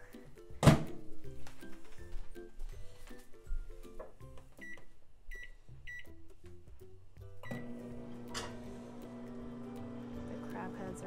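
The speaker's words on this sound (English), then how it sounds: "So the heads, you actually going to microwave it for 3 minutes." Dungeness crab heads cook in a microwave oven. Knocks and beeps as it is set up give way to a low, steady electric hum that runs to the end.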